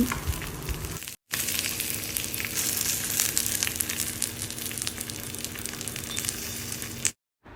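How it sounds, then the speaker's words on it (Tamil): Fish wrapped in banana leaf fries on a stovetop for meen pollichathu, giving steady, close crackling and sizzling throughout, broken only by two brief moments of silence. "அடுப்பில் வச்சதுமே சட சடன்னு ஒரு சவுண்டு அதாவது இது ஃப்ரை ஆகும்போது ஒரு சவுண்டு வந்துச்சு பாருங்கள்"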